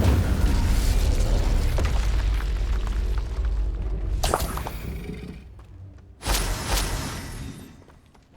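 In the game Hogwarts Legacy, an Incendio fire spell goes off with a rumbling, roaring burst, followed by two sharp crackling blasts a couple of seconds apart, loud and close.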